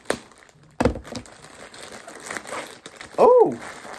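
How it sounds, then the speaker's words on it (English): Tough plastic package being pierced and opened with an X-Acto knife: loud close crinkling and crunching in bursts, with a sharp crack near the start and a brief voiced sound near the end. "So let's pierce it with the X-Acto knife."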